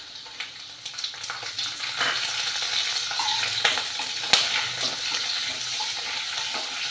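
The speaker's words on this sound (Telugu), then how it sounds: "కొంచెం వేయించుకోవాలి." Ginger pieces, green chillies and dried red chillies sizzle and crackle in hot oil for Telugu rice upma, a soft continuous fry with occasional stirring scrapes and small pops, close and fairly quiet.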